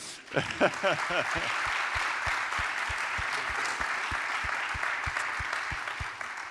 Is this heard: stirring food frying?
no